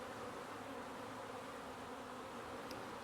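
Honeybees swarm around a busy hive during orientation flights, a dense, steady buzzing drone filling the air, faint and continuous with no break.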